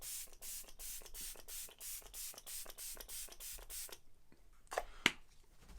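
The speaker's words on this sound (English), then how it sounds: "It's a Lasting Fix makeup setting spray up to 16 hours wear matte finish" Rapid, even bursts of a Maybelline Lasting Fix makeup setting spray pump hissing out mist, about a dozen quick pumps in a row, close up, followed by a few soft handling clicks.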